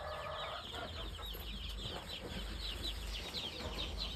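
Many chickens cluck in a dense, continuous chorus, with the odd rooster-like call rising above steady background noise.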